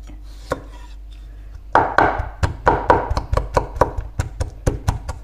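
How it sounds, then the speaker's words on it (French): A knife chops garlic on a cutting board in a run of close, sharp knocks that start slowly and then settle into a quick, regular rhythm, with no talking. "Maintenant, je vais hacher l'ail."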